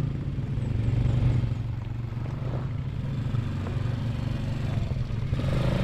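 An ATV engine drones at a steady, loud rumble nearby with slight rises in pitch as the rider gives gas, plus faint rattles underneath.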